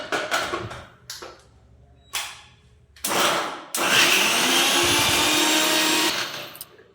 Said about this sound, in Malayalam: ഇത് നമ്മൾ ചെറിയ ഉള്ളി ഇഞ്ചി ഒക്കെ ഒന്ന് ചതച്ചെടുക്കാം